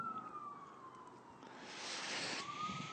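An emergency vehicle siren winds slowly through a Southridge neighborhood, heard faintly and far off as a falling wail over a quiet background hiss, with no one speaking.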